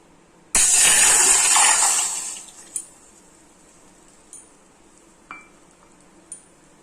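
An electric grinder whirs loudly for about a second and a half while grinding chai masala spices, then winds down, followed by a few faint clinks of kitchenware.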